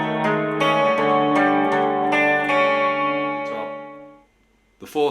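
Electric guitar picks out a clean, effected melodic motif from a song, a run of ringing notes with chorus-like shimmer that sustains, fades to near silence, then a brief pluck at the end.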